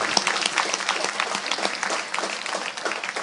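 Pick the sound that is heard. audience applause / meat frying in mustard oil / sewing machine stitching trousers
audience applause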